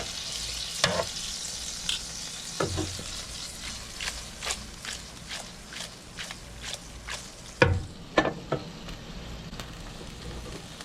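Pasta tossed in melted butter in a hot pan gives a soft, steady sizzle broken by repeated close clacks and scrapes of a utensil stirring, with no talking.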